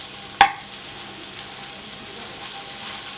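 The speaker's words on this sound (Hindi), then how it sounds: "आप गरम पैन में खोया डालें। इसमें और इसको आपने हल्की आंच पर पकाना है थोड़ी देर," Khoya cooking in a hot pan over low heat, with no ghee added, gives a soft, steady sizzle and faint stirring throughout, marked by one sharp clink of a spoon against the pan near the start.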